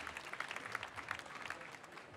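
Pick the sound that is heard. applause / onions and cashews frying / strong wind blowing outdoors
applause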